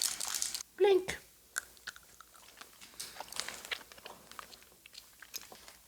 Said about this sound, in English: while I'm still munching through this